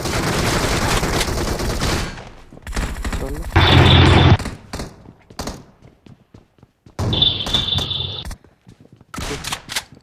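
Gunfire in a shooting video game, bursts of rapid shots and a couple of heavy blasts separated by short gaps, loud and close, with brief quiet stretches between volleys.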